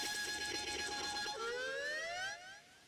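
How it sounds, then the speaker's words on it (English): A Pokémon's eerie siren-like call in an open-world Pokémon game: a loud sustained wail with a steady tone that bends downward partway, then rises again before fading near the end, with no talking. "I do not like the call of that Pokemon, by the way. It's unsettling. It's like Siren Head, but Pokemon."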